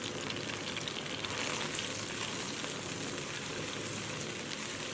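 Bean sprouts dropped into a pot of boiling water seasoned with soy sauce, salt and chicken stock give a dense, steady hiss and bubbling roar, close and continuous with no talk.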